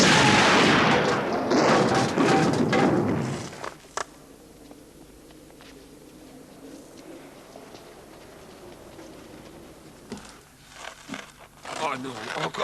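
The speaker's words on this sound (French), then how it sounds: "Arrête, Bérolouche, tire!" Gunfire in a 1989 desert action film: a dense burst of loud shots and blasts at the start, then a quiet stretch, then a few more sharp cracks near the end.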